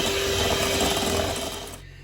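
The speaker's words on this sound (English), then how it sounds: "you can use the mixer." An electric mixer whirrs steadily through cake batter with egg for a Victoria sponge, a close, buzzing motor drone that cuts off abruptly near the end.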